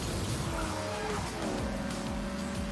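Toy cars skid and squeal through corners in the Hot Wheels Unleashed racing game, with a steady racing engine drone and repeated tire-squeal bursts mixed close together.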